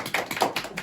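Several people clapping during an Indonesian talk show episode, a short burst of uneven claps close by, with no talk over it.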